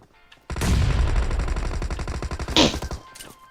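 Rapid automatic gunfire in PUBG Mobile, a loud close burst of evenly spaced shots lasting a few seconds with a heavier crack near the end.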